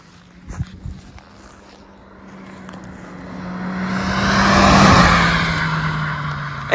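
A Suzuki Swift Sport with a Stage 1 turbo tune hums steadily outdoors, its engine tone rising into a broad, louder surge midway, then easing slightly, heard alone after a few faint knocks at the start.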